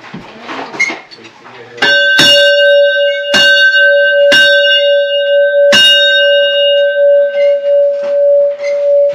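A single loud church bell strike rings out and hums on with a long, sustained tone, while a few sharp knocks and brief voices sound around it, at the Velika Planina herdsman settlement in Slovenia's Julian Alps.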